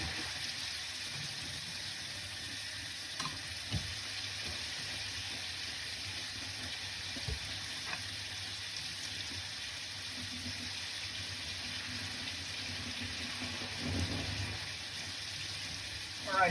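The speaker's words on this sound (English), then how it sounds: "Can you even hear me over the pan with sizzling heat?" Teriyaki chicken sears in a hot pan, giving a steady, even sizzle and hiss that carries on throughout, with a few faint clinks in the kitchen and no voice over it.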